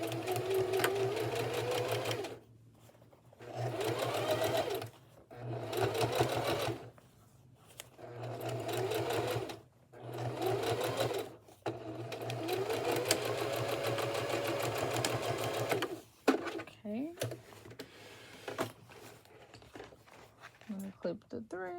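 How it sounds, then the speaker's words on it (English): Sewing machine running a short straight back stitch on elastic waist shorts, its steady motor whir coming in several bursts separated by pauses, with a person talking at the end. "I'm going to turn it back to a straight stitch. And I'm just going to do a little back stitch."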